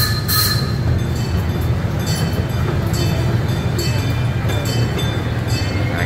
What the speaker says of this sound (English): we're on the blue train here today